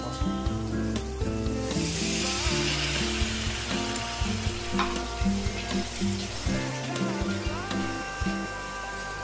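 Spices with ginger-garlic paste wash water and a little red chilli powder sizzle in a pot while being sautéed (kosha) for mutton biryani. A continuous close, bright frying hiss runs throughout, with occasional scraping stirs and a faint tonal hum underneath.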